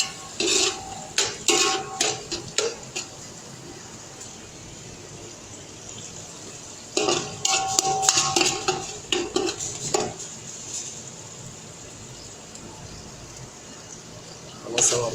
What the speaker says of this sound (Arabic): اول ما البصل يتغير لونه او يقبل حاجه بسيطه خالص طص الميه بتاعته، نبدا ننزل بالخضار ونقلب شويه